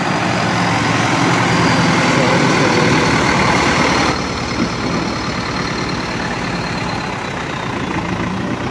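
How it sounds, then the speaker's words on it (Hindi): A tractor engine idles with a steady heavy rumble close by, the level dropping slightly partway through but the low mechanical drone continuing throughout. "ये सिद्धू भाई का ट्रैक्टर है"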